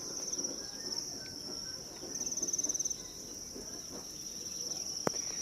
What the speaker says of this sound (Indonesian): Jadi ini jangkrik usia 20 hari